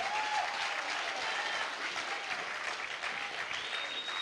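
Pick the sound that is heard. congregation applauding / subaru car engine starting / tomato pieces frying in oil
congregation applauding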